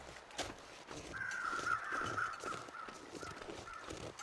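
Crows caw in The Long Dark's snowy wilderness, a harsh drawn-out call rising over soft footsteps and ambient crunching, fairly near and alone without talk.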